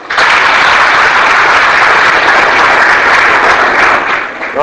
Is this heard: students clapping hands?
yes